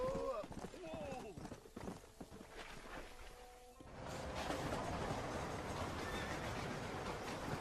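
Horses whinny and snort near the start in Red Dead Redemption, followed by steady clip-clopping hooves and rumbling movement, with background noise throughout.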